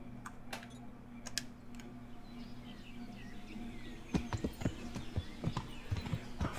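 Hooves clop in a quick, uneven rhythm over a low steady hum, with a few scattered clicks before the trotting begins, from the video game Kingdom Come: Deliverance.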